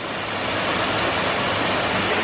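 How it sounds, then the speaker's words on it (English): A loud waterfall roars in a steady, dense broadband rush, close and unbroken, with no voices heard. "Hopefully you can hear me over this waterfall, it's bloody noisy."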